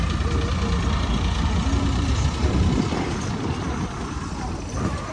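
A tractor's diesel engine idles steadily with a low, chugging rumble, close by and continuous throughout.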